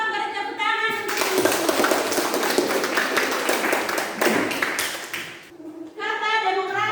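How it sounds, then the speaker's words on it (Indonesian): A classroom of students gives a burst of applause for a classmate's answer in a civics lesson, dense clapping lasting about four seconds, framed by a teacher speaking just before and after. "Ya, kita beri tepuk tangan."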